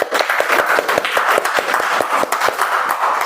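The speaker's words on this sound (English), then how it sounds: "let us give him a big round of applause" An audience at a club meeting's table topics session bursts into a round of applause, with dense, steady, fairly loud clapping from many hands that carries on without any voices.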